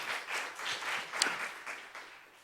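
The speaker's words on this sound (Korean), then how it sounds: "박수 한번 쳐주세요" A church congregation claps briefly during a Sunday morning service, a short, moderately quiet burst of applause with rhythmic pulses that fades out within a couple of seconds.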